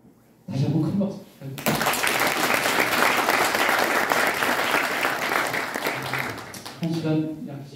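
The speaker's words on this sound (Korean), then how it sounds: "다시 한번 큰 박수" An indoor lecture audience breaks into loud, sustained applause that fills the room for several seconds, framed by a host's voice briefly before and after.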